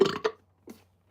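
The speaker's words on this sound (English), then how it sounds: "I can't even get a good burp." A weak, short burp from a sick man, a brief low gurgle followed by a fainter second puff, close and alone in a quiet room.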